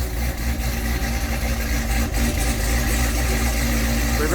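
A Cadillac CTS-V with an LT4 engine runs in gear after a transmission rebuild, giving a steady, loud, low engine drone throughout without any revving or break.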